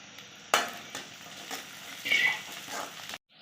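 Chopped onions and curry leaves fry in hot oil with a crackling sizzle, punctuated by a few scrapes and stirs of a spoon in the pan before it cuts off.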